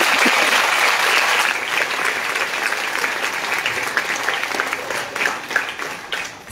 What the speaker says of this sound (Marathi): जोरदार टाळ्या वाजवा